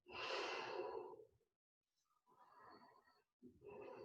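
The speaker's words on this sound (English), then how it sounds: "breathe deep" Slow, deep breaths during a yoga stretch, a long audible exhale followed by a quieter inhale and the start of another breath, close and soft with no talking.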